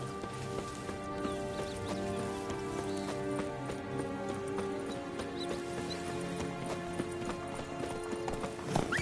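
A horse gallops in The Witcher 3's Blood and Wine, its rhythmic hoofbeats clopping continuously and up close over a sustained musical bed, with no talk.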